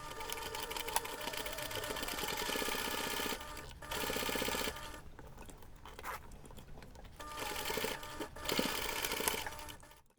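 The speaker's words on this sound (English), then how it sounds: "we're going to take this to the machine and we're going to sew the seam using 5 millimeters" Sewing machine stitching a seam with 5 mm seam allowance on a fabric snowflake zipper pouch, a loud steady whirring run that pauses briefly twice and starts again, up close with no voice.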